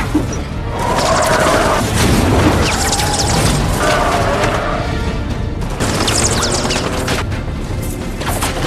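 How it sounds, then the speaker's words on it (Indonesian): Gunfire and a crash as a car is shot at, rammed by a terrorists' truck and overturned during a presidential kidnapping in an action film; loud, continuous booms and smashing impacts fill the scene with dense noise throughout. "langsung memberikan tembakan ke arah mobil mereka berdua, yang membuat mobil keduanya terbalik setelah ditabrak oleh truk teroris ini"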